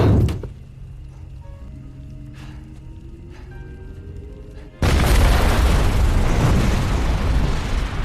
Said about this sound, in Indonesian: Tak lama mobil itu pun meledak.